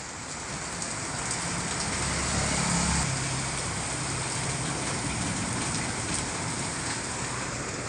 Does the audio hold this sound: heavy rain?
yes